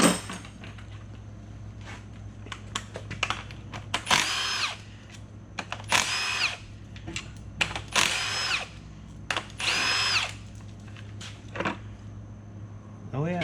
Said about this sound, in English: We'll go and buzz the oil pump loose, which is right here.